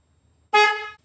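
A single short, loud, steady honk from the horn of a Polaris RZR Turbo S side-by-side fitted with a street-legal turn signal kit, sounding alone against near silence.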